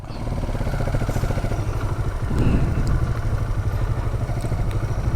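A motorcycle engine runs steadily up close on a hidden backroad, a dense low idle-like rumble with some clatter and a thump midway, continuous throughout with no talk.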